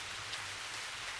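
Steady rain falls in a dense, even hiss with no breaks, fairly quiet and close, and nothing else cuts through it.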